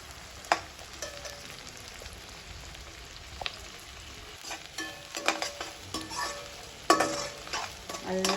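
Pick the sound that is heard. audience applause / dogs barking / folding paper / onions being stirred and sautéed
onions being stirred and sautéed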